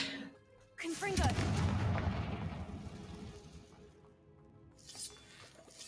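Confringo fire spell in the game Hogwarts Legacy, a sudden booming blast that rolls into a long, rumbling crackle and slowly fades.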